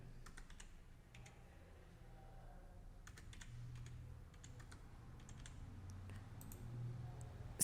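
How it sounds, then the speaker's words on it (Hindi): Quiet keystrokes on a computer keyboard enter a date into an Excel spreadsheet, arriving in irregular short bursts of clicks with pauses between, close and soft against a low room hum, with no talking. "उसके लिए हमें डेट टाइप कर लेनी है।"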